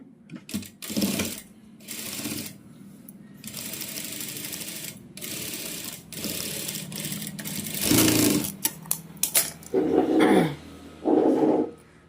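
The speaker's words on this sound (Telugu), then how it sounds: "నేను ఒక స్టిచ్ వేసి చూపిస్తాను చూడండి" Sewing machine stitching a straight line through fabric in several bursts, a steady mechanical whir with louder, faster runs near the end separated by brief pauses.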